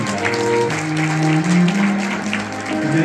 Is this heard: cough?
no